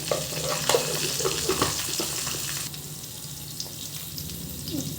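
Half a spoon of turmeric frying in a pan for fenugreek-leaf pulihora. A close, crackling sizzle with scraping stirs runs loud at first, then settles to a quieter, steady hiss partway through, with no talk.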